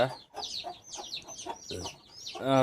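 Guinea fowl in a newly set up enclosure give a series of sharp, repeated clucking calls at close range, ending in a louder, harsher burst.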